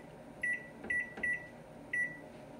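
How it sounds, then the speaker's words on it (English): Four short electronic beeps from an oven timer being set for baking pizza crust, sounding close and evenly spaced over faint background hum. "Setting my timer for 7 minutes."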